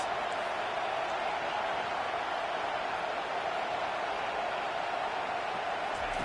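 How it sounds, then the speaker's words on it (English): Stadium crowd roaring in the NCAA 25 college football video game, a steady, dense wash of cheering noise that holds evenly throughout without breaks, moderately loud and distant-sounding. "Listen to this crowd just shaking the girders of this place, trying to help their defense"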